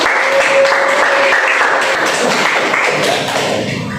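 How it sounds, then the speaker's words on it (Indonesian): Applause from a classroom of students during a chemistry lesson on periodic properties of elements, a dense patter of clapping holding steady for about three seconds before thinning slightly at the end, with no talking over it. "tepuk tangan untuk yang sudah bertanya"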